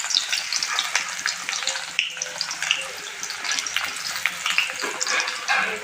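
Chopped onions sizzle and crackle in hot mustard oil in a pan, a steady, close frying hiss with scattered pops and occasional stirring scrapes, no talking.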